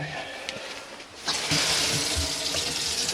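Water runs steadily from a tap in a Tribute T650 caravan, gushing more strongly after a brief lower trickle, with no talking.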